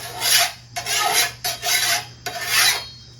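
A hand file rasps along a machete blade in four long, close strokes, each a bright gritty scrape with a short gap between strokes, over a faint steady hum.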